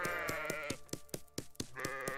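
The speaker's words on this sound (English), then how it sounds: "Let's give them some sheep." Sheep in the pixel-art sandbox game Super WorldBox bleat again and again in quick succession, with sharp clicks punctuating the short nasal cries.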